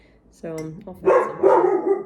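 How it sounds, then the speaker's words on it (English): A pet dog barks a few times indoors, the sharp yelps rising over a person talking nearby. "Sorry, that's my dog."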